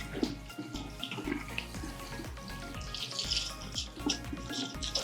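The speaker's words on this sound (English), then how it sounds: "I'm gonna rinse this with cold water so that the noodles can cool off faster" Cold tap water runs over cooked pasta noodles draining in a sink, a continuous splashing hiss with irregular spatters, close and fairly loud throughout.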